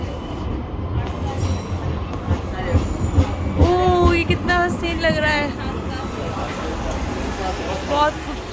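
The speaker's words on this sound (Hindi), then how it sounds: "ये जो वक्त है ना, ये दोनों ट्रेन एक साथ गुजर रही हैं, ये बड़ा स्पेशल है।" Two trains pass at once near the Hagia Sophia in Turkey, a steady rumble with clattering wheels and brief squealing tones, loud and close throughout.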